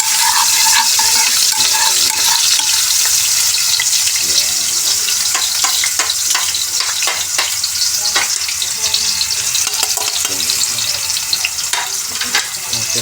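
Eggs and onions sizzle steadily in a frying pan while being stirred, with a loud continuous hiss broken by scraping utensil strokes, close up and with no talk.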